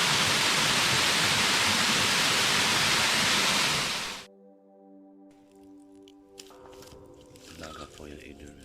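Loud, steady broadband rush of falling water fills the first half, then cuts off abruptly, leaving quiet hum and faint scattered noises.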